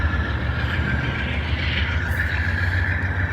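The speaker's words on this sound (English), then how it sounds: "Sounds like that DPU's spooling up." A freight train's DPU diesel locomotive spools up, a steady loud low rumble and drone with a sustained mid-pitched whine, constant and close throughout.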